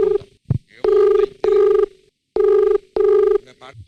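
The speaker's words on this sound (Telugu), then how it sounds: "ఒకసారి మళ్ళీ అదే ఫస్ట్ నెంబర్ కి ఫోన్ చేద్దాం." A telephone ringing on an outgoing call during a TV show, a series of repeated electronic ring tones in evenly spaced bursts with brief gaps, loud and close.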